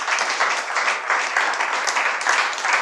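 Audience applause after a talk on analog scan processing: a continuous wash of many hands clapping at even loudness, moderately close, with no break.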